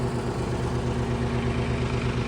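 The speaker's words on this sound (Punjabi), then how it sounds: "ਟਰੈਕਟਰ ਵੀ ਸਟਾਰਟ ਹੋ ਗਿਆ" A tractor engine idles nearby with a low, even rumble and a regular throbbing pulse, no voices over it.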